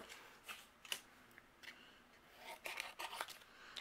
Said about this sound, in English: Now I'm going to use my scissors. And we're going to fussy cut each one of our Christmas trees out.